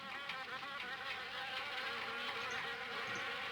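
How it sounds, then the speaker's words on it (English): Wasps buzzing in the Harvester video game, a steady, close insect drone that holds unbroken and fairly loud for the whole stretch with no voices over it. "The attic window is perfect nesting grounds for wasps."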